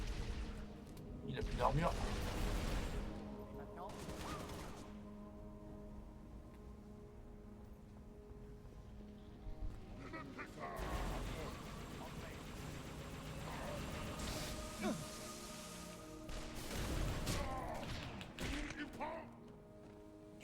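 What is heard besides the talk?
gunfire and grenade in Halo Reach video game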